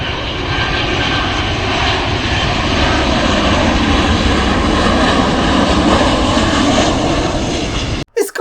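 A jet airliner passes low over a hotel sitting beneath the flight path, its engines giving a loud, steady roar that holds for about eight seconds before cutting off abruptly.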